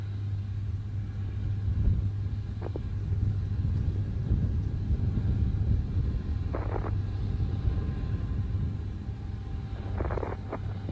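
Space Shuttle Atlantis lifting off from Complex 39B on the STS-76 launch, its engines throttling up in a deep, continuous rumbling roar that holds steady at high level, with a few faint tonal blips over it.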